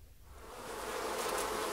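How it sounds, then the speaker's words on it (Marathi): A wasp nest buzzes with a dense, swelling drone of many insects, rising in loudness and heard alone as a sound effect in a children's story. "गांधील माशीचं पोळ."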